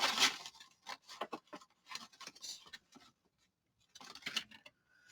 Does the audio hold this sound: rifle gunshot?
no